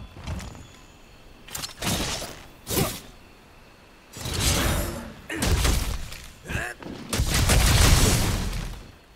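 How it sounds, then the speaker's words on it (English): In Monster Hunter, a Greatsword performs a Clutch Claw mounting attack: a series of heavy, crashing thuds and slamming impacts arrive in bursts separated by short lulls of quieter background. "Here is its unique Clutch Claw mounting attack, which can soften a body part since it is a heavy weapon."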